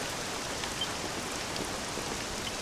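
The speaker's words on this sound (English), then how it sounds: "This accursed rain'll chill ye to the bone." Steady rain falls in Dragon Quest VII Reimagined, an even, dense hiss of drops at constant loudness throughout, with no voices.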